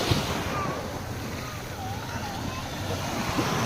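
Steady wash of gentle surf rolling onto a beach on Boracay, broad and continuous with light wind noise, no distinct crashing breakers.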